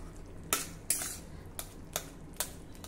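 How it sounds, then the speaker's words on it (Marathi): A spoon or ladle stirs soft-cooked raw mango pieces in a cooking pot for a tangy mango curry, giving about six sharp, separate scrapes and clinks against the metal over a quiet background, with no talking. "मध्ये झाकण काढून हे ढवळून घ्या"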